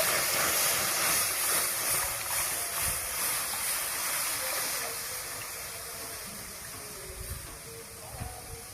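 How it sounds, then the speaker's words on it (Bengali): Cow's milk poured into a hot wok hisses and steams, loud at first and slowly settling into a softer bubbling simmer. "এবারে কড়াইয়ের মধ্যে দুধটা দিয়ে দেব।"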